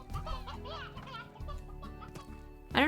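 Chickens cluck repeatedly in the ranching video game Slime Rancher, a busy flock of short, bobbing calls layered under soft background music, ending with a louder, sharper squawk.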